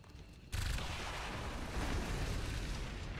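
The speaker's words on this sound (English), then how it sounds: "And explosions as well." A sudden loud blast opens into a sustained roaring rumble of explosions and crackling debris, dense and continuous, in the video game XCOM 2: War of the Chosen.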